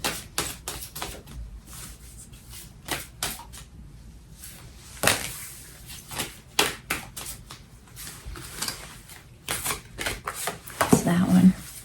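Steampunk Tarot and fortune reading cards being shuffled in quick, uneven bursts of crisp riffling and slapping, with a voice talking now and then over the card noise.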